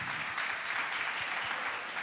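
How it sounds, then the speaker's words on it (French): Conference audience applauding the speakers at the EnerGaïa 2025 forum, a steady wash of clapping throughout with no speech over it. "on peut les applaudir."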